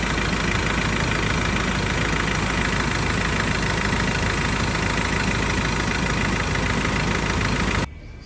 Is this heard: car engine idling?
yes